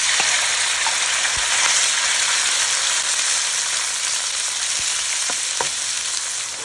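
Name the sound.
diced pork sirloin frying in sesame, avocado and chili oil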